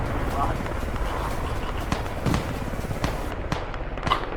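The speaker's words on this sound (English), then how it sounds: "I've got gunfire coming from near Dave." Airsoft gunfire during a skirmish in an old western town set, sharp scattered cracks and pops of varying distance over near-constant talk and movement from players.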